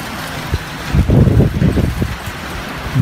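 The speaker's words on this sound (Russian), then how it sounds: "Град. Видите, там все белое." Hail pattering and rattling outside a balcony, a dense irregular drumming that swells for a moment, mixed with low wind-like rumble and no voices.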